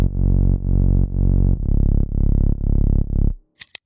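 A Serum Bass Heavy synth bass preset plays a run of seven loud, buzzing, sustained bass notes in an even pulse, ending in silence broken by two brief clicks.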